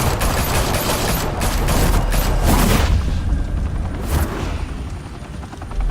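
Dense gunfire in Batman: The Telltale Series, a loud continuous barrage of shots and booms with a heavy rumble underneath and a few sharper bursts standing out, no voices.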